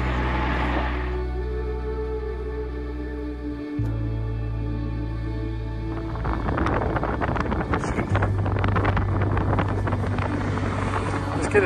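Strong headwind buffeting the microphone while road cycling in spring sunshine, on a bikepacking ride from Munich toward Tuscany; a steady, loud low rumble of wind noise throughout, growing rougher and gustier in the second half.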